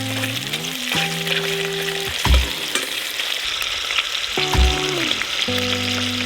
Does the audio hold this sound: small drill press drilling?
no